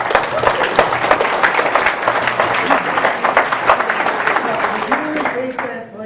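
Audience applause at a talk on ending genetic engineering of the food supply, a dense, steady crowd clapping that fills the room evenly before thinning at the end.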